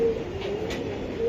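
A single auction racing pigeon coos softly up close, a low sustained murmur over a faint steady hum, with no talking.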